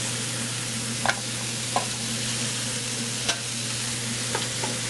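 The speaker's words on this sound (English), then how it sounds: "we're just going to mix that up right now. Sweat out those onions a little bit." Onions with red and green peppers sizzle steadily in a pot for chili, with a few sharp clicks and scrapes of a spoon stirring through them over a constant frying hiss.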